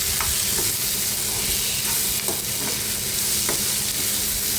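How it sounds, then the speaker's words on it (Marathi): Dried prawns fry with tomatoes and salt in a pan and are stirred continuously, making a dense, loud, even sizzle with occasional soft scrapes of the spoon, close and without speech. "आता याच्यामध्ये चवीप्रमाणे मीठ घालते मिक्स करून घेते"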